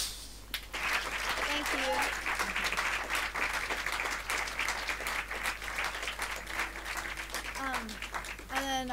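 Audience applause at a Tiny Desk concert, steady clapping running throughout with a voice talking over it and a brief thanks near the end.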